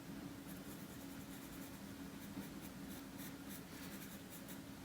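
Colored pencil shading on paper for a portrait, a soft continuous scratchy rubbing of the pencil tip, faint and close, with quick repeated strokes.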